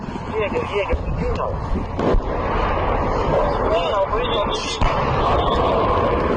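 Distant artillery fire from Ukraine war front lines rumbles under continuous loud wind and field noise, with dull booms rolling through the background and people talking nearby.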